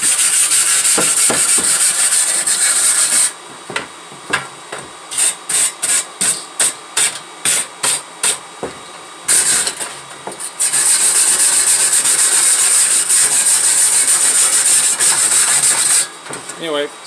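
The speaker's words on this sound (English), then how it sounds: "We should run some sandpaper over that." Sandpaper rubs over a 1974 Plymouth Duster splash shield, producing loud continuous gritty sanding that breaks into a run of short, rhythmic back-and-forth strokes before resuming as a long steady scrub.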